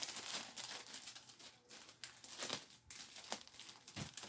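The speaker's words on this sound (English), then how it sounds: "let's take a piece of tape in here" Cello wrap crinkles and rustles during gift wrapping for a weekender bag, with a piece of tape pulled and torn among the crackling; close and fairly quiet, a few sharper tearing bursts, no talking.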